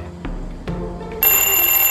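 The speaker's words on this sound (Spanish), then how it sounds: "Obviamente como un despertador, pero vamos para que vean." A couple of clicks and a knock, then a classic bell alarm clock starts ringing loudly with a continuous, rapid metallic clatter.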